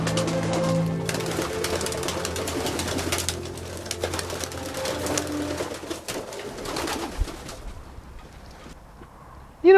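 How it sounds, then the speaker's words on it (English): Pigeons coo repeatedly around an outdoor sculpture, soft low burbling calls close by against outdoor background noise, with people talking at times and faint hoof-like clopping in the distance. "You know, pigeons and outdoor sculptures are inseparable."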